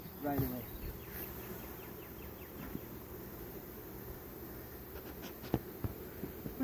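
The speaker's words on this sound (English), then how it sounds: "Pretty good size swarm." A fair-sized honeybee swarm, caught in a trash bucket and being rehomed onto frames, makes a faint, steady buzzing hum throughout, with a few soft knocks and taps near the end.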